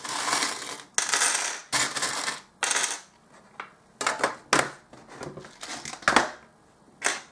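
Small charms for a reading are tossed onto a table, giving a series of sharp, clattering metallic drops in irregular bursts, close and fairly loud.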